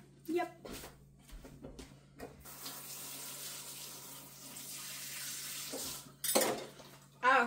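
Dishes are rinsed under a running kitchen tap, a steady splashing rush lasting several seconds, with clinks of dishes and cutlery and a person talking before and after.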